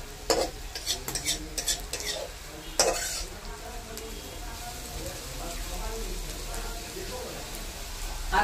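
Bottle gourd peel fries in oil in a pan while a spatula stirs and scrapes, giving a soft steady sizzle broken by sharp metallic scraping knocks early on, fairly faint and close.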